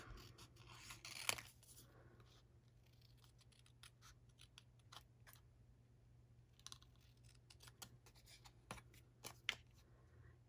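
Paper being cut with scissors to make cut-out letters for a rock and roll birthday card, with scattered short snips and rustles of paper close by in a quiet room.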